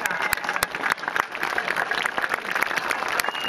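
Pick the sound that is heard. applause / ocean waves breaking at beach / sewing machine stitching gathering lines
applause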